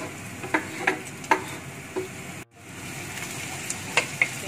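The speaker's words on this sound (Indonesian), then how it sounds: "Masukkan fish cake, cili kering dan cili padi." Fish cake with dried and bird's eye chillies being stir-fried in a pan, scraping stirs and spatula knocks over a steady sizzle, a brief dip in the middle, close and moderately loud.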